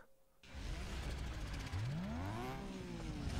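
A car engine in the Need for Speed Underground 2 racing game revs up hard after a quiet start, its pitch climbing and shifting through gears, loud and steady to the end.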